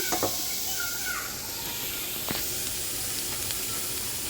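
Small loitta dried fish from Cox's Bazar frying in a pan: a steady hiss and sizzle with a few faint clicks and scrapes, no talking.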